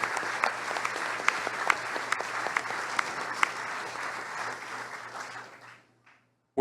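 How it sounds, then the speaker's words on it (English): A crowd at an evening live show at the Vogue applauds the event's partners, a close, lively burst of many hands with sharp individual claps that carries for several seconds, then fades to near silence. "I want to give a huge round of applause just for all of these amazing partners here tonight"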